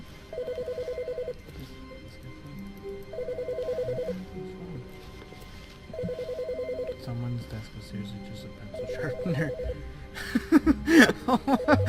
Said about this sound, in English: Oh, old telephone.